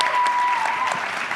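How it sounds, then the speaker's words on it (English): A live event audience applauds panelists at the close of a session, a short burst of lively close clapping with a faint steady tone underneath. "let's have a nice round of applause for our panelists today."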